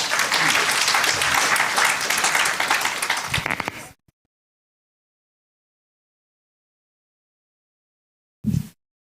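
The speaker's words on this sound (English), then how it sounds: "Yes, it's okay to clap for him." An audience claps for a performer being welcomed on stage at a citizen assembly on debt and anti-corruption, loud continuous applause for about four seconds that cuts off abruptly, followed by silence and a brief thump.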